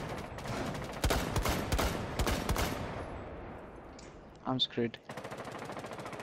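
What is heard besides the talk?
gunfire in a video game ranked match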